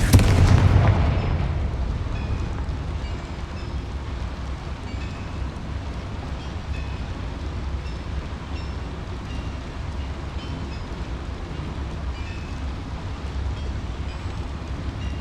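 A Confringo blasting spell hits a boiler in Hogwarts Legacy, opening with a heavy booming burst that fades into a long, dense low rumble continuing steadily under the scene.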